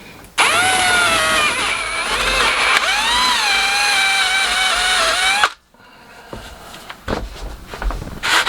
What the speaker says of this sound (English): Just drill this piece here.